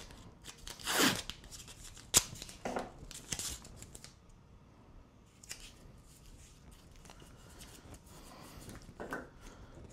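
Blue painter's tape torn off a roll in a woodcarving workshop: a few sharp ripping bursts near the start, then quieter crinkling and handling noises, all close up with no voices.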